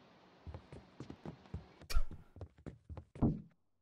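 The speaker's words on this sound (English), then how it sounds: "is this the door that made the noise?" A wooden door in the horror game Dead Seater, sounding as a series of dull thunks and knocks in a slow uneven rhythm, close and fairly quiet, ending in a heavier thud.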